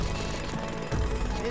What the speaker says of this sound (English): Can I just drill through this stuff?